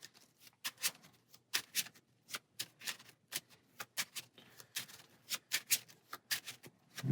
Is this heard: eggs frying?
no